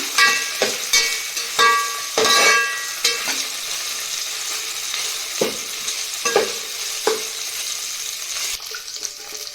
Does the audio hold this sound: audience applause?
no